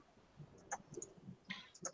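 Light keyboard typing clicks in short irregular bursts, close and quiet, scattered over faint background with a soft voice briefly present.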